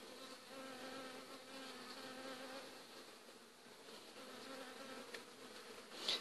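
Honey bees buzz inside a hive in a continuous low drone, a dense hum of many insects close by, fairly quiet and steady.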